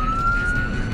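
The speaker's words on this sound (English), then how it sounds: "You can give different tones of that siren." Siren on a Dodge Durango Pursuit police car sounds a single loud, steady wailing tone up close, heard alone for a brief moment.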